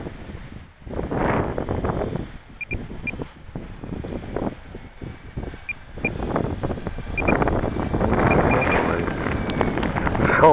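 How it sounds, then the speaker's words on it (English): Wind gusts buffet the microphone at a model airplane flying field in Minnesota late in the year, rising and falling in loud rumbling bursts with brief calmer gaps. "wind's picking up."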